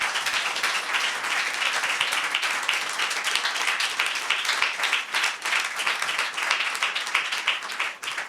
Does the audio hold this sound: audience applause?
yes